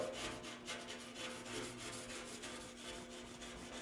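Continuous faint rasping and scraping, a scraper blade rubbed back and forth against shower glass to remove limescale in quick repeated strokes, with no talking.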